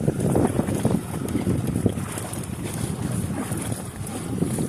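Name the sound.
wind blowing while paddling a kayak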